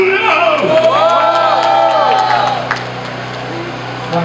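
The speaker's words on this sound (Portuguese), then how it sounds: "Já quem escolhe, acha que meu mano Big Mike levou, faz barulho!" Battle rap crowd cheering and shouting at a freestyle event, a loud burst of whoops and yells under a voice that fades after a few seconds into lower crowd murmur.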